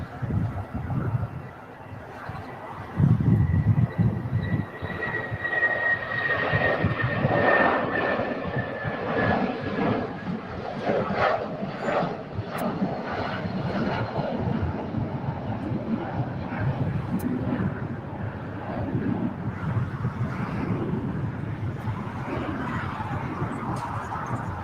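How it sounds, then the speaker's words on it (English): A United Boeing 757-300 airliner taking off at LAX, heard from a hillside as a broad, sustained jet roar that swells and then holds steady under wind noise and some talk. "We got the United 757-300."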